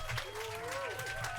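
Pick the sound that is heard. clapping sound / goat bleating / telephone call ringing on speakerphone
clapping sound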